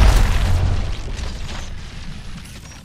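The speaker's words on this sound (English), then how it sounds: "Grenade, watch out." A grenade blast in the video game Apex Legends, a low booming burst right at the start that rolls off into a long fading rumble over about three seconds, with no talk over it.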